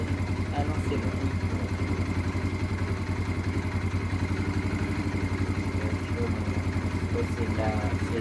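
A Yamaha XT125X motorcycle engine idles steadily nearby with a fast, even low throb and faint mechanical clatter.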